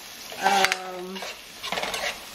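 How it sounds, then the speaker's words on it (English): Food frying in hot oil in a pot for a Nigerian egg stew, stirred with a utensil; scraping and clinking strokes come in two bursts over a steady close sizzle, with no talk. "So I'll just keep stirring till it's translucent."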